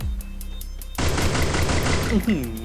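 Sustained automatic gunfire in the mobile shooter Free Fire erupts after a quiet start, a loud rapid burst of shots with a player talking over it.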